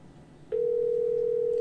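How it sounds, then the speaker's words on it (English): An outbound SIP call places a ringing tone that begins after a short quiet moment and holds as one steady, loud, unbroken tone to the end, with no voices. "Phone is ringing."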